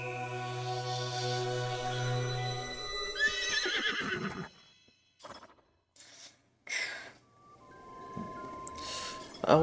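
A revived horse in Zelda: Breath of the Wild lets out a long, loud whinny, followed by scattered hoof clip-clops and snorts with quiet gaps between.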